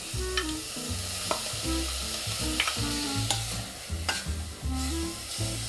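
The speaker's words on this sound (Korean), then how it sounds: "참기름이 뽀글뽀글 올라오기 시작하면 이제 고기 넣어주시고요" Beef stir-fries in bubbling sesame oil in a pot, a steady close sizzle broken by sharp utensil clicks, with background music running throughout.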